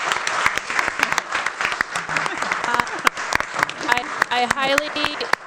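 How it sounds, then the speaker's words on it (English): Applause from an audience at a talk, dense clapping that continues steadily, with a person talking over it and some whistles near the end. "So round of applause one more time."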